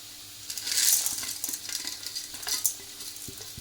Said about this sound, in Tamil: உளுந்து கடலைப்பருப்பு இதெல்லாம் வந்து கொஞ்சம் போட்டுக்கலாம்.